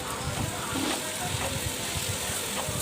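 Snake gourd fries in a pan with a soft, steady sizzle and faint crackle, quiet and close, with no talking.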